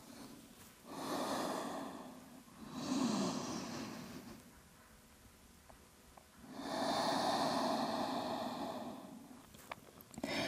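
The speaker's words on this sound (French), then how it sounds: "Et on prend quelques respirations ici." Slow, deep yoga breaths are drawn in and let out in long waves, close and fairly soft, with quiet pauses between them and no talking.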